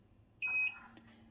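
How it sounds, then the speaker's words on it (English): A single short electronic beep sounds from an iDoo hydroponic growing unit as it is switched on, a clear steady tone standing alone against a quiet indoor background. "there's the beep we're waiting for"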